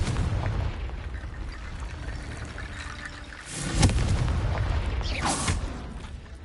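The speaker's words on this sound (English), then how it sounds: "Confringo!" The Confringo fire spell in Hogwarts Legacy bursts with a deep boom, one sharp blast rising over a dense, rumbling game soundscape, then a second swelling burst a moment later.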